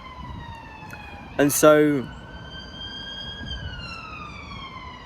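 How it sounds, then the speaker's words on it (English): An ambulance siren wails steadily with a slowly sliding pitch as it passes at moderate distance, under someone speaking, with a brief louder burst of voice partway through. "ambulance."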